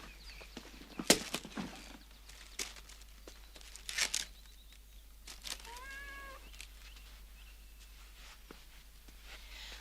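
A cat gives a single drawn-out meow midway through, faint against a quiet room with a few louder bumps and rustles before it, and no speech.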